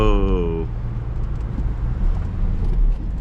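A Chevrolet LT1 engine runs steadily after its misfire was cured by replacing a cracked rear spark plug, a low continuous drone heard outdoors near traffic, with a brief tonal whine at the start.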